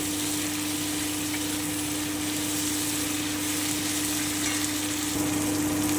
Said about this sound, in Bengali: আমি আরও একটুখানি ভেজে নিচ্ছি যতক্ষণ টমেটোটা না গলে যাচ্ছে